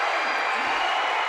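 A high school boys basketball crowd roars after a dunk, a loud, sustained wash of cheering that fills a gym, with a voice faintly underneath.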